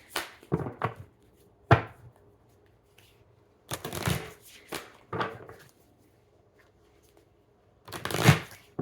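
Oracle cards shuffled by hand in irregular bursts, several quick riffling rustles separated by pauses, close and clear with no talking.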